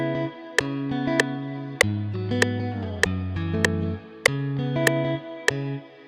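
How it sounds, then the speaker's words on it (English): A sampled Kontakt guitar melody processed through a Guitar Rig preset, a run of plucked notes with a rounded, effected tone and slight reverb, moderately loud and steady with no talk. "there's some nice preset in guitar rig that I have saved,"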